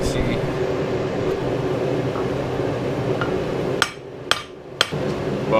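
A hammer strikes a Dana 44 axle knuckle during cleanup of a solid axle swap. Three sharp metallic blows ring out near the end, following steady background noise.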